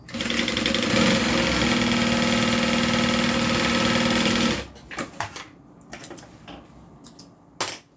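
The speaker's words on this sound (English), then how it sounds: "now I'm going to do a stay stitch on the bottom to hold these two pieces of fabric together" A sewing machine running steadily as it stay stitches along the bottom of two pieces of fabric, a loud continuous whirring hum lasting several seconds, then stopping, followed by scattered handling clicks and rustles.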